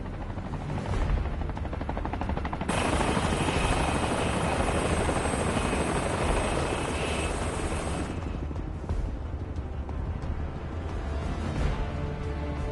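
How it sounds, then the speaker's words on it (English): Helicopter in the video game Final Fantasy VII Rebirth, a loud continuous rotor thrum and engine whine that swells sharply for several seconds and then eases back to a steady drone, with no speech. "Helicopter."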